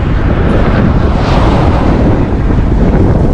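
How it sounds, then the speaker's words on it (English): Loud, continuous wind buffeting the microphone on a cross-country bicycle tour, a dense roaring rush with no letup. "The wind is a little better now, but the wind was relentless."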